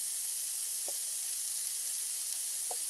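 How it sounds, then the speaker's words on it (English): Onions frying in burger juices in a pan give a steady, bright sizzle that holds throughout, with two brief soft knocks along the way. "I'm going to put my onions down here in the burger juices"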